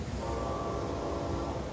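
A CSX freight train led by a Union Pacific SD70AH locomotive rumbles past nearby at the south end of Okeechobee siding, giving a dense, steady roar with a faint horn-like tone.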